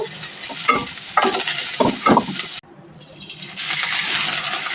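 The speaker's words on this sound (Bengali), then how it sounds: "তো এই যে আমি পেঁয়াজটা একটু লাল লাল করে ভেজে নিচ্ছি" Chopped onion fries in a pan while cooking a fish curry with potato and cauliflower, a crackling sizzle broken by stirring scrapes, then a brief cut and a steadier, louder sizzle close by.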